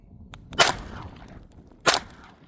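Two sharp, close .22 Long Rifle gunshots fired at a plastic jug, spaced just over a second apart, with quiet outdoor background between them.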